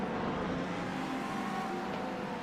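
A GT3 race car in a racing video game, a continuous engine roar that holds steady and close throughout with a faint tonal whine riding on top.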